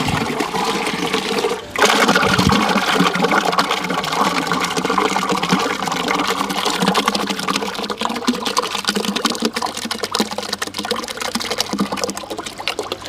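Cow dung being stirred into water for jivamrit, a steady loud churning and sloshing of liquid throughout with a brief break early on.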